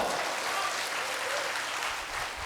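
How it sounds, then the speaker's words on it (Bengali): A classroom of students claps together, a dense, steady burst of applause that fills the room at an even level and carries on without any talk over it. "এর জন্য একটা করতালি দাও"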